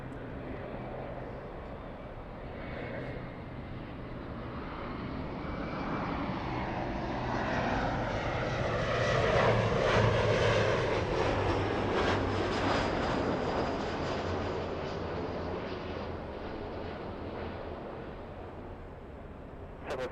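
A Boeing 767 airliner at LAX roars past, its jet engine noise swelling to a loud peak midway and then slowly fading into the distance.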